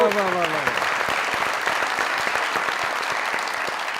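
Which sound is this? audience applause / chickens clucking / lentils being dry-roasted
audience applause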